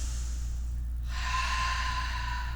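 Slow, deep breathing during a vinyasa yoga flow, a soft airy exhale that swells into a sustained breathy rush over steady low hum, close and moderately quiet, with no talking.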